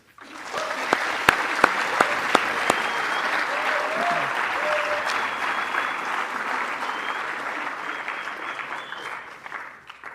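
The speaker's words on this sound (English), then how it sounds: "Please join me in a round of applause for all of the aforementioned." A large audience at a school winter sports awards ceremony claps steadily, the applause rising quickly and sustained for several seconds with a few sharp, close claps standing out early on.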